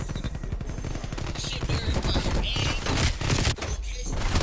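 Rapid, loud shotgun and gunfire blasts in the Call of Duty Cold War video game, dense overlapping shots with crashes continuing through the whole stretch.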